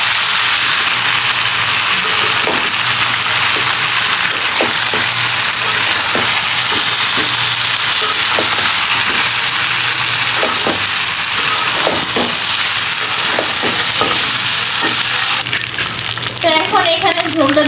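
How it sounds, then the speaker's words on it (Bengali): Fish, meat and potatoes with ground spices are being sautéed together in a pan, giving a loud, continuous sizzle with repeated scraping stir strokes throughout, ending with a brief change in the frying sound. "এখন মাছ মাংস আর আলু গুঁড়ো দিয়ে দেবো ফেলে একসাথে আবার কষাবো"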